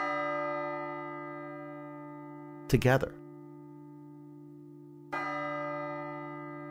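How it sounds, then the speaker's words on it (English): Bells tolling for an armistice peace remembrance: a sustained, ringing bell tone decays slowly, a second strike rings out later, and a brief spoken word falls between them. "Bells of Peace will toll from every device."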